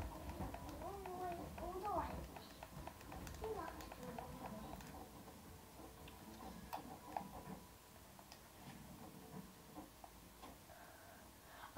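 Quick, steady hoofbeats clatter along in a continuous galloping rhythm in the video game Red Dead Redemption, with a voice talking over them throughout.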